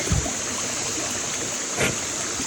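Shallow creek water flows steadily at a family cabin, a constant soft hiss and trickle close by with a brief splash near the start and another faint stir later.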